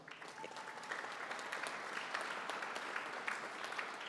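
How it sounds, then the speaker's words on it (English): Banquet crowd applauding the staff at a golf association awards dinner, a soft, steady wash of many hands clapping in a large room, heard from a distance and without pause. "Give them one more round of applause."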